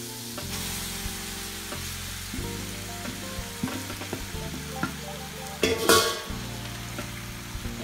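Chicken pasta with vegetables is stirred in a frying pan, a steady close sizzle broken by repeated scraping strokes and a louder clatter of the spoon near the end, with no talking.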